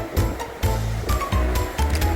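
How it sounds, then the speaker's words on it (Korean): Ocean waves roll onto Sanisu-dong beach on Jeju, between Sanbangsan and Songaksan, in loud rushing surges that arrive in quick repeated bursts and are roughened by heavy wind buffeting. "파도가 밀려오지요."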